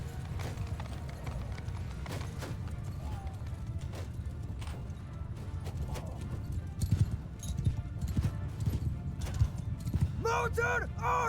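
Horses galloping in the medieval battle game Bannerlord, a dense, continuous clatter of hooves from cavalry with scattered crashes and a neigh near the end, moderately loud, with voices in the mix.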